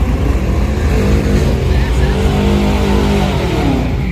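A Pontiac G8 engine roars loud and close at a street track meet, holding a heavy, sustained rumble with rising revs under background crowd noise.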